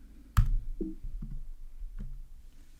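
A single sharp click, likely a computer mouse or keyboard button pressed to advance a screen, sounds near and loud, followed by faint low bumps and quiet room noise.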